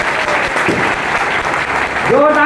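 Dense, loud applause from a large audience honouring two leaders at an anniversary event, with a voice rising out of it near the end.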